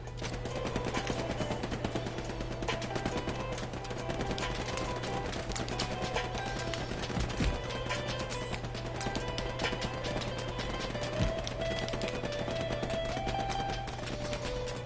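Sustained covering gunfire rattles on steadily as dense, continuous automatic bursts over a steady low hum, fairly close and unbroken throughout, with no voices.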